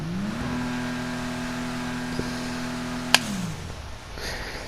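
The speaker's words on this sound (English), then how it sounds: "Let's hear the turbos" Turbocharged car engine revving near and loud, a sustained steady drone that holds, then drops away, with a brief sharp burst partway through.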